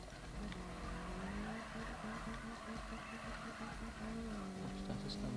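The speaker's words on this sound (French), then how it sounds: "Oh putain, ça c'est un drift" A car drifts in the Need for Speed racing game, its engine droning steadily with the screech of sliding tires over a continuous, loud, steady roar.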